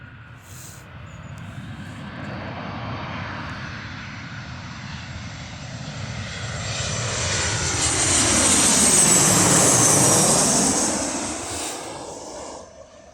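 A Boeing 737 airliner on its landing approach, engine roar swelling steadily as it passes close overhead and then easing off, heard alone with no voices.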